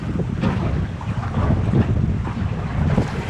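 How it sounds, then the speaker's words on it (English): Strong wind gusting over a small fishing boat out at sea, a steady loud roar and buffeting against the microphone with faint water wash beneath, no talking. "Man, this wind's picked up."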